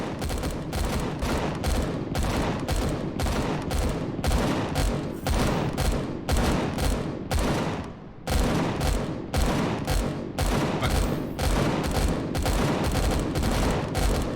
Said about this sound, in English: God knows what my guns are firing at